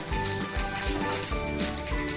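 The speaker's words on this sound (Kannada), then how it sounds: "ಬಿಳೆ ಎಳ್ಳು ಚಟ್ ಚಟ್ ಅಂತ ಸೌಂಡ್ ಬರಬೇಕು" Rapid crackling and popping of white sesame seeds in hot oil, a busy sizzle with scattered sharp pops close by.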